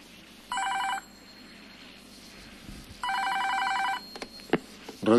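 A telephone on a call-in radio show rings twice in an old-style double trill, each ring about half a second to a second long, followed by a brief click.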